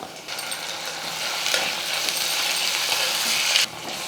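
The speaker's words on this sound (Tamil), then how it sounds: "வெங்காயம் நல்லா வதங்கிடுச்சு ரெண்டு தக்காளி சேர்த்துக்கிறேன்" Onions, curry leaves and then tomatoes sautéing in a pan for a brinjal and field bean curry, a steady close sizzle and scraping stir running throughout with no talk.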